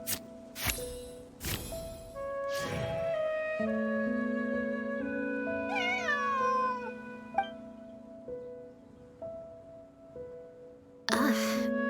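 A cat meows several times, tonal mewing calls rising and falling over a steady musical background, with short sharp sounds in between and voices speaking around it.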